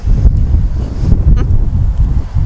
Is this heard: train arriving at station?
no